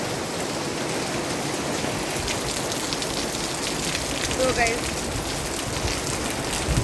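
Unseasonal rain falls steadily at the start of winter in Modasa, Arvalli, a continuous broadband hiss of drops on surfaces that holds the same level throughout, with a brief spoken remark near the end.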